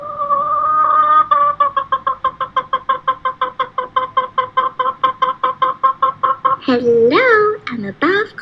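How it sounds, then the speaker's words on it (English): A small buff bantam-type chicken with soft, fluffy plumage at a bird park gives a long, rapid, evenly paced run of loud close clucks, ending in a few higher squawking calls. "a small chicken with soft, fluffy plumage"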